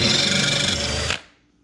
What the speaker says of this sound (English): So I'm going to drill one, and you're going to drill the other.